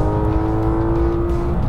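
A Porsche GT3 RS engine screams near its 9,000 RPM limit on a wet track, a loud, close, steady high-revving howl with a tight, buzzing tone.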